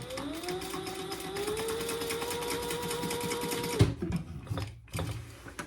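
A sewing machine stitches fabric down in one steady, close run of motor whine and needle clatter for nearly four seconds, then stops, leaving faint handling noises.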